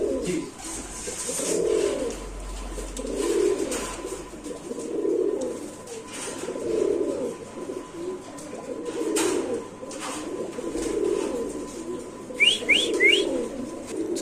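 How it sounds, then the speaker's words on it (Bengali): A pair of white racer pigeons at a large pigeon farm coo close by in slow, repeated rolling phrases, with faint chirps and a few sharp whistles near the end. "একজোড়া হোয়াইট রেসার কবুতর"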